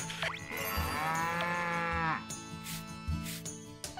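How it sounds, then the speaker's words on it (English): A cartoonish cow moos in the farming game Story of Seasons: Pioneers of Olive Town, one long, clear, close moo over soft game music, with no talking. "Hello, cow."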